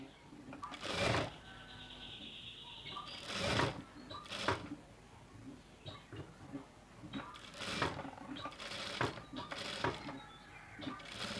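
A tailor's sewing machine stitches blouse piping along a quarter-inch seam in short, quiet whirring bursts separated by brief pauses and soft handling clicks.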